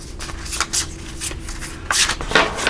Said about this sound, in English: One more little shuffle here.